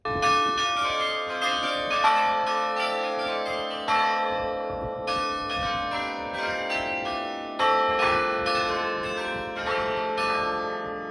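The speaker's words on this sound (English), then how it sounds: "we did get to hear the bells play at the quarter hour while we were up there" Carillon bells in Belgium ring out a melodic quarter-hour chime, many tuned strikes overlapping and ringing on, loud and resonant with no voices.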